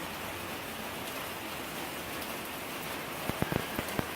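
Steady rain falls outside a backyard chicken coop with a soft, even hiss, and a few close, sharp drips or taps land near the end.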